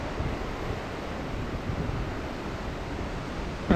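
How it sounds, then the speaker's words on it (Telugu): Sea waves breaking steadily at RK Beach, Visakhapatnam, a continuous broadband surf wash with some wind noise on the microphone, close and fairly loud with no voices. "అండ్ అలా అలలు వస్తుంటే ఆ అలలు సౌండ్ వినొచ్చు."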